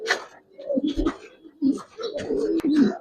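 Farm-raised pigeons coo close by in soft, throaty, repeated bursts with short gaps between them.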